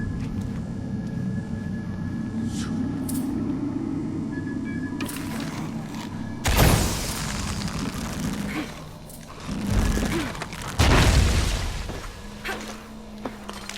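A low rumbling ambience in Shadow of the Tomb Raider breaks into two heavy booming explosion blasts with crackling debris, loud and close, followed by a lingering low hum.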